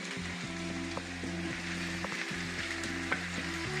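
Diced ham and onions fry together in a pan, giving a steady, dense sizzle up close with an occasional faint tap of a utensil, and no one talking.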